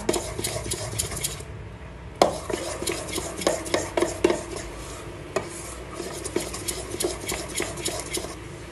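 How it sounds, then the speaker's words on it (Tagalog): A batter-like mixture is stirred in a bowl with a utensil, giving steady close scraping and clinking strokes throughout, with occasional sharper knocks against the side. "So, haluin mo pa siya."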